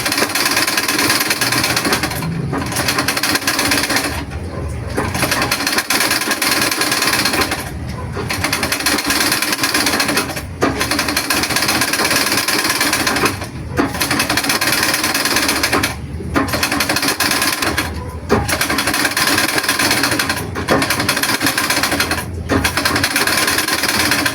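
A treadle sewing machine runs loud and steady in a long continuous whir, broken at regular intervals by short pauses as the treadle stops and restarts.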